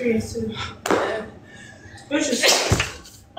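A sudden sharp sneeze bursts out in a room among people chatting, a single loud explosive burst that quickly fades back into conversation.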